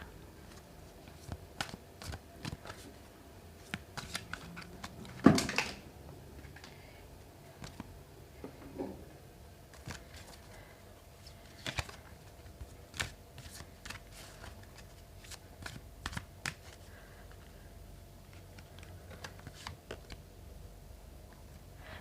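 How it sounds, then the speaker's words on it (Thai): Tarot cards are shuffled by hand before an advice card is drawn: soft, irregular taps and riffles scattered over about twenty seconds, close and quiet, with no voices. "เดี๋ยวเรามาดูไพ่คำแนะนำกันค่ะ"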